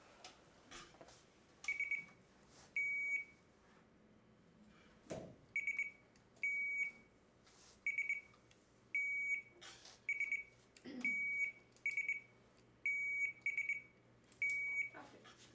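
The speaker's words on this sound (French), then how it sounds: "On va tester vos buzzers." Quiz buzzers tested one after another at a team quiz, a dozen short electronic beeps and double beeps in irregular succession, fairly faint over a quiet room with occasional thumps.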